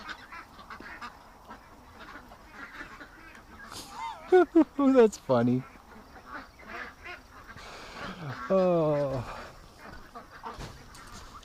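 Backyard ducks let out several bursts of loud, raspy quacking close by, in two clusters between quieter rustling, while a person speaks briefly over the farmyard sounds.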